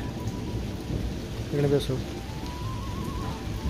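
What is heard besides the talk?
thunder and heavy rain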